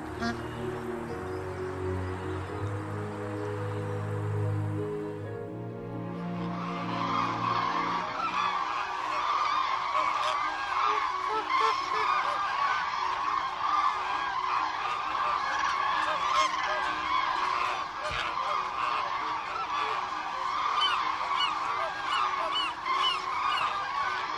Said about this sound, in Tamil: அதற்குள்ளாக இந்த பட்டை தலைவாத்து இங்கிருந்து கிளம்பியாக வேண்டும்.